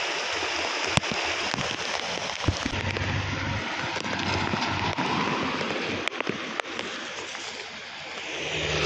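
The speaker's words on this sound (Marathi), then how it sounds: "आवाज पण येत असेल पाण्याचा।" Rainwater gushing strongly through a full roadside drain pipe during a heavy May downpour in a drought-prone region, a loud steady rushing wash that fills the whole stretch with scattered splashes and knocks.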